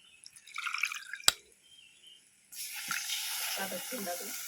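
Liquid splashes and drips at first, then after a pause a steady rushing pour of kudampuli (Malabar tamarind) soaking water into a pan, with a faint voice early on.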